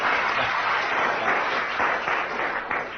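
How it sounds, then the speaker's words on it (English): A live comedy panel show audience claps for the adjudicators, a full, steady round of applause with a faint cheer inside it, and no voices over it. "So can we have a round of applause for our two adjudicators?"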